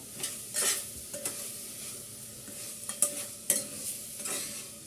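Chopped tomatoes stirred and fried in a pan for chicken polao: a soft, quiet sizzle broken by repeated scraping strokes and light clinks of a spatula against the pan.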